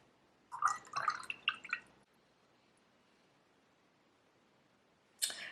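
Water is added to a thick watercolour paint mix, giving a short cluster of soft, close drips and wet squishes, then a pause of near silence and one more brief splash at the end.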